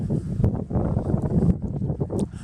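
Wind gusting outdoors along a street, buffeting the microphone with a steady low rumble and rough fluttering bursts throughout, with no talk.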